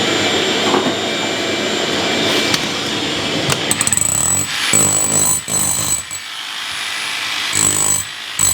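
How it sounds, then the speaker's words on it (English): A loud shop vacuum roars steadily, sucking up chipped shower demolition debris and old HardieBacker board fragments, with rattling bursts and clacks as chunks hit the hose, then stopping and starting in uneven pulses toward the end. "Vacuum all that."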